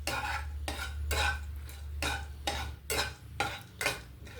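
Chana dal, urad dal and whole round red chillies with stems being stirred in a hot pan for tempering, a low sizzle under repeated rhythmic scraping strokes of a spoon against the metal, close and steady with no talking.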